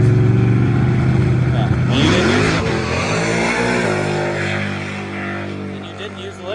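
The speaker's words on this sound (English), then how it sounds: "Burnout." A car does a burnout on small tires at a helipad in Texas, its engine roaring loud and close with rising revs that ease off toward the end, while a voice briefly speaks.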